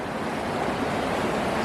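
A flooded river at the river fork campground in Drake, Colorado, swollen by flash flooding, rushes beneath a bridge in a constant, close, loud roar of churning water with no pauses.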